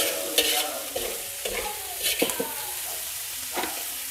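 Anchovies stir-fried in a pan with a broad hiss of frying and irregular scraping knocks of a utensil, loud and close, no talk.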